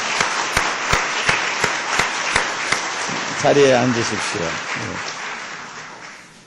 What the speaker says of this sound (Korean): 우리 큰 박수로 남선교 회원들 박수로 격려해 주시기 바랍니다